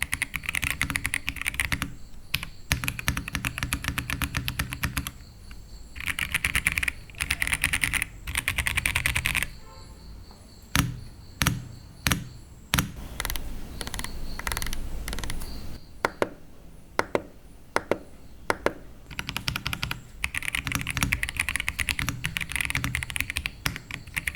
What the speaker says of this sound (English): makes this one of the best sounding and feeling keyboards